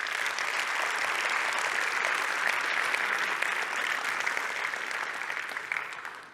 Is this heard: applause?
yes